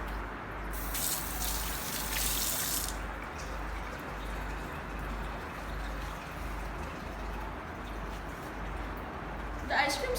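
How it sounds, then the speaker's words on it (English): Tap water runs steadily into a sink as hands are washed before cooking, a continuous close gush with brief splashy rustling near the start and a knock at the end. "So before we do that, we will have to wash our hands."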